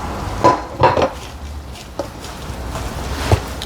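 Metal ladle scraping and clinking against a cooking pot while ingredients are mixed, for a Saraswati Puja offering: a few distinct clanks early on, then scattered lighter knocks over quiet background.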